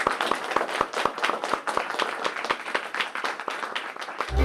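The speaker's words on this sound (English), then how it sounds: "If we do one more round of applause for all the students who played" An audience at a Manx culture day applauds students who played Manx tunes, with many hands clapping at once and a few louder, sharper claps standing out rhythmically above the steady wash.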